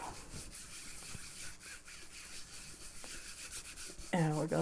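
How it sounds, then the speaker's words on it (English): A baren rubs the back of printing paper laid over an inked block, making a soft, repeated scratchy rubbing at close range that stays quiet and steady. A brief voice cuts in near the end. "rub the back with the baren"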